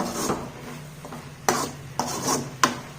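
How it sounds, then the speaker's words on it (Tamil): A spoon stirs vegetables in a pot of sambar on a stove turned up high, making several scraping strokes against the pot with a few sharp clinks, close and fairly quiet, with no talking. "ஸோ நல்லா கிளறி விட்டுக்கோங்க"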